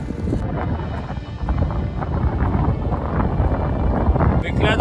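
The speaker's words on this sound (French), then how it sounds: "j'ai vraiment le vent en pleine tête" Strong headwind gusts roar against the microphone of a cyclist riding through a storm in Newfoundland, a loud, constant buffeting rumble with surging peaks throughout.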